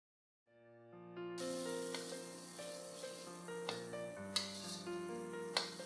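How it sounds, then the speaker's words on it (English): Rempah paste ingredients frying in oil give a continuous close sizzle that starts after a few seconds, layered over soft sustained music, with occasional louder crackles. "as you fry the ingredients, the oil will be absorbed into the ingredients"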